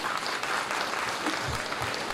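An audience breaks into steady, dense applause at a retirement ceremony, a continuous wash of many hands clapping at moderate level with no voices over it.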